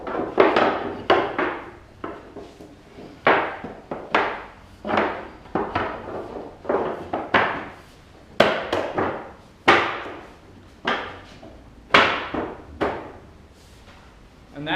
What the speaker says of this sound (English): the last of the Z-axis shelves just kind of clips into these tenons here